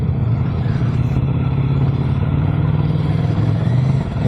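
A CFMoto 300NK motorcycle engine runs close and loud, a steady low throb with a slight rise in pitch near the end, and no talk over it.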